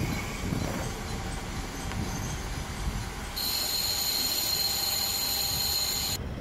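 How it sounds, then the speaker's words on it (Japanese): Diesel railcar train 2477D pulls into a station on a rural Hokkaido line, a steady rumble of wheels and engine joined by a high, bright squeal of brakes as it draws in and stops. "2477Dは15時4分定刻に到着します。"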